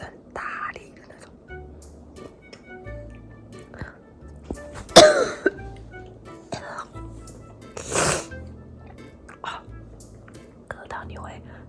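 Forceful post-Covid-19 coughing: two strong, close coughs separated by a few seconds, with quiet breathy, whispery sounds in between.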